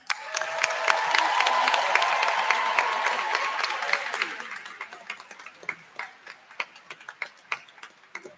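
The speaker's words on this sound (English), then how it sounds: "Round of applause for them." Applause at a 2022 community college commencement ceremony: dense, loud clapping from an audience for about four seconds, then thinning into scattered individual claps that fade out.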